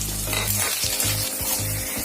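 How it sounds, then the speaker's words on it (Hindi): Chopped onions and green chillies frying in a pan for vegetable chow mein, a steady crackling sizzle with rhythmic scraping stirs of a spatula against the metal, close and loud. "प्याज और हरे मिर्च को अच्छे से, जब तक ये गोल्डन ब्राउन नहीं हो जाता फ्रेंड्स, इसको बस तलते रहना है"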